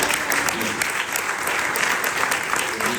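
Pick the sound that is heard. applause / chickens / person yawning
applause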